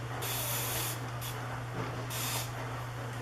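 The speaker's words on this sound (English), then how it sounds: "I'm gonna spray this just a little bit." Several short spray bursts of hair product from a spray bottle onto natural 4C hair, crisp hissy puffs separated by brief pauses over a steady low hum, close and fairly loud.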